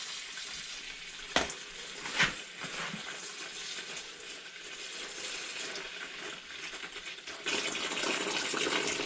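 Engine oil pouring out of a Jeep 4.0L engine, a faint, steady liquid trickle and splatter with a couple of brief knocks, growing slightly fuller near the end.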